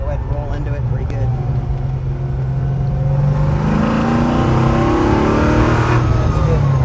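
A car engine being tuned for performance revs and accelerates hard in second gear from low RPM, a loud rising roar that builds steadily, close inside the car, with voices talking over it.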